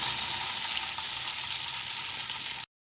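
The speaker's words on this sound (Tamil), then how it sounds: "நெத்திலி மீன் கருவாடு வந்து நல்லா ஃப்ரை ஆகிட்டே வருது" Dried anchovy fish frying in hot oil on a tawa, a steady, even sizzle that holds without pause until it cuts off abruptly.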